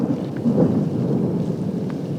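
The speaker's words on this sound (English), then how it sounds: "It's like our rain's coming back." A low, rolling rumble of thunder sounds over steady falling rain, continuous and fairly loud.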